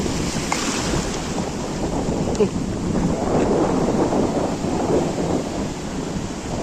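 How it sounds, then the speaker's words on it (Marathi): Ocean waves roll and break at high tide on Varsoli beach, Alibag, in a steady, broad roar, with wind rushing across the microphone throughout. "ह्या लाटा आहे बघ"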